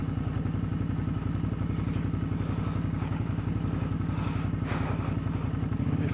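Suzuki V-Strom 650 motorcycle engine running steadily close by, a low throbbing mid-range idle with faint clatter and occasional knocks, constant throughout with no talking.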